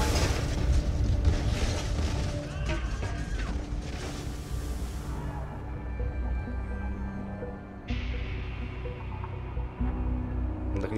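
Deep booming explosions in the video game State of Mind and crashing debris rumble continuously, with metallic creaks and mechanical clatter layered throughout, loud and dense.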